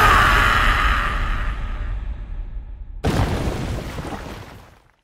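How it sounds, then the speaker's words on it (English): A heavy booming proton cannon blast from Marvel vs. Capcom Infinite erupts, fades, then a second burst hits at about three seconds and rumbles out into silence. "Proton cannon!"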